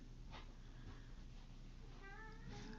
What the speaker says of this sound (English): I don't know if you can hear my cat, but he's outside the doors screaming his head off.